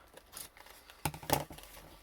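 Scissors cutting paper for a mixed-media junk journal page, a few quiet crisp snips close by with no talking.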